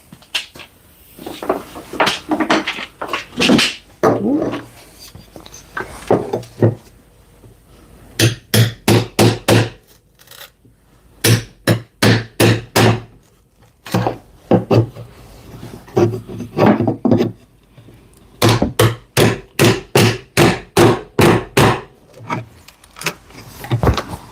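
A hammer knocks small plywood pieces off a custom bookshelf build in sharp, loud bursts of rapid blows separated by brief pauses, close and alone with no talk.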